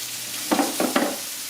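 Steak cooks on high heat in a pan with butter and garlic, a steady close sizzle broken by three quick scraping bursts of stirring or basting.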